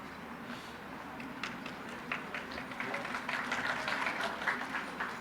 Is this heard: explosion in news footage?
no